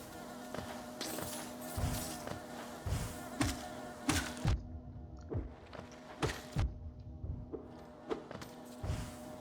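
Tiny bees buzzing in the video game Hollow Knight, repeated close buzzing bursts with soft thuds from combat hits, irregular and busy, with no talk.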